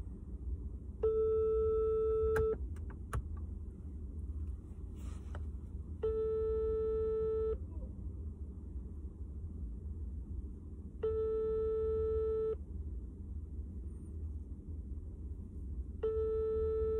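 An outgoing telephone call rings, giving four evenly spaced ringback tones, each about a second and a half long with long quiet gaps, over a low steady hum.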